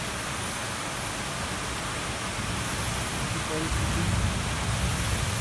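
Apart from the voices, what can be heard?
heavy rain and wind in Kalyan-Dombivli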